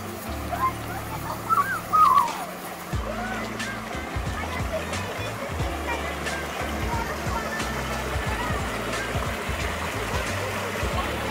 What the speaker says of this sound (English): There's a little waterfall right over here